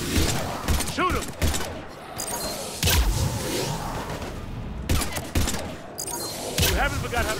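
Gunfire in the Mass Effect 3 video game on Mars: bursts of rapid shots and heavy booming blasts come in waves across the scene, loud and close, mixed with shouted voices and battle noise.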